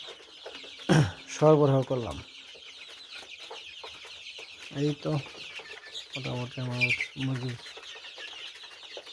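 On a poultry farm at night, 24-day-old broiler chickens let out several loud, close clucks and squawks in short bursts between quieter stretches, while someone talks in between.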